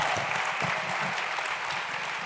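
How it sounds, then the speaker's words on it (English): A conference crowd claps steadily and loudly, a dense, continuous wash of applause filling the room. "Big round of applause."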